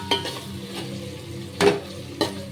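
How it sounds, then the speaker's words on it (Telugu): A spoon stirs sambar with tamarind juice in a pot, soft liquid sloshing under a low simmer, with three sharp scrapes or clinks of the utensil against the pot spaced through the moment. "ఇప్పుడు అంతా కలిపేసి చింతపండు పులుసు పోస్తా."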